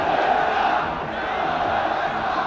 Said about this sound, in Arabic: جمهور الزمالك اللي بيشتمه